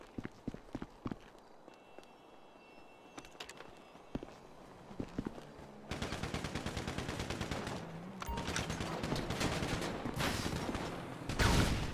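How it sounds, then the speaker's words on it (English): Pump shotgun fire in GTA Online comes as sharp, spaced single blasts, then a burst of dense rapid shots and louder heavy bangs near the end, with footsteps in between. "We got the pump shotgun."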